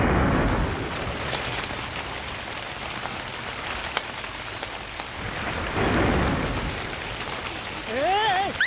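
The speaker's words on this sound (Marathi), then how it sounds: "काय अचानक पाऊस आला ना" Steady rain pours and patters across the whole stretch at a comedy sketch show, a broad continuous wash with a brief voiced sound rising near the end.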